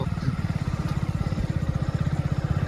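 A motorcycle is ridden along the route to a farm field; its close, steady engine putters in rapid, even pulses throughout.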